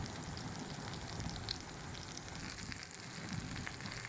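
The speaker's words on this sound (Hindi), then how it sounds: "इस तरह हम सारे कबाब फ्राई कर लेंगे।" Kebabs fry in a pan with a continuous, even sizzle and crackle at moderate level, steady throughout with no talking.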